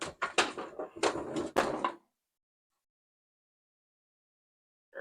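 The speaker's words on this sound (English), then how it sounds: "Old rusted magnetic door fasteners." An old armoire's cabinet door with rusted magnetic fasteners produces several rapid knocks and clacks in a short burst, followed by silence and one final brief clack.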